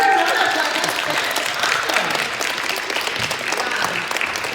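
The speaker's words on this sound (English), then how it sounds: "Give her a round of applause." Conference audience breaking into sustained applause, a dense wash of clapping from a crowd that holds steady and tapers slightly over several seconds.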